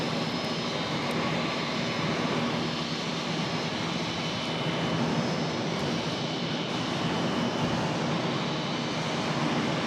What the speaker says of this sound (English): Little A319 making its way onto this taxiway here